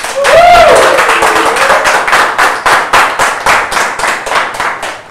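Studio audience at a quiz show claps steadily for a contestant, dense rhythmic applause running the full length, with a brief rising tone near the start.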